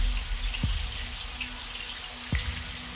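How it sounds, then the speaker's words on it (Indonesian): Water trickles steadily from a tap in a quiet, echoing toilet room, with a couple of sharp drip-like clicks standing out. "suara keran air"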